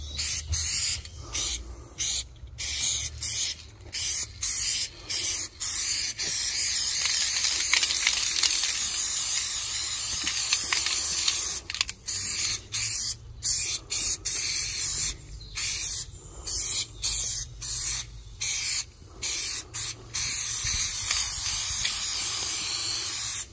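Repeated bursts of spray paint hiss from an aerosol can fitted with a fat cap, filling in graffiti letters with green paint; steady close sprays broken by short pauses, no talking.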